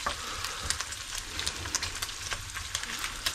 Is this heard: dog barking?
no